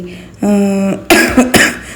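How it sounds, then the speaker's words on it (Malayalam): A person coughs in a home kitchen while cooking rice for a festival lunch. A short voiced sound is followed by two or three sharp, loud coughs close to the microphone. "ഭയങ്കര ചുമ വരുന്നുണ്ട്"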